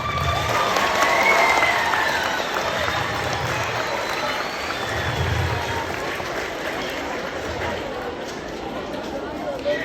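Audience applause at a keynote speech, a broad steady wash of clapping from a large crowd that swells early and holds through the whole stretch, with faint voices mixed underneath.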